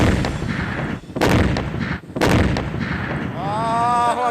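A deep, booming blast from an airstrike collapsing a building in Gaza City, followed by a second heavy roar, with rumbling debris-like noise throughout and a rising whine near the end.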